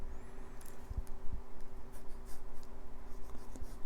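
Pencil drawing on paper against an ellipse template, a steady scratchy scribble of graphite strokes with a few light taps, close and alone.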